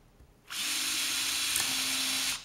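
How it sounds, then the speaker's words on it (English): A power drill bores 1/8-inch holes into the lip of a mold, starting with a sharp whine after a quiet lead-in and holding a steady, loud, even drone for about two seconds before stopping. "you need to drill 1/8 holes"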